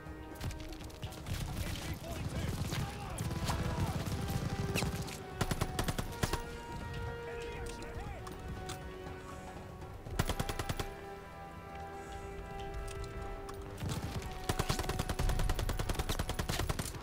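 Pistol fire in the Call of Duty: Vanguard video game, bursts of sharp shots scattered over a busy battle mix with music and ambient noise, a voice talking at times over it.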